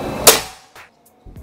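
A single sharp, percussive shot from a Predator Bocap Tactical 500cc PCP air rifle cracks close by, followed by faint mechanical clicks and handling noises.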